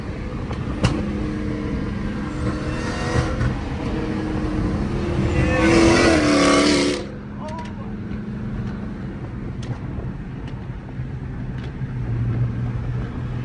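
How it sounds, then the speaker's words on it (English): Two flame-tuned Dodge Chargers run on a highway, one engine surging louder for a few seconds before the roar drops back to a steady drone. Voices talk over the engine noise. "Two illegal Dodge Chargers taking over the highway"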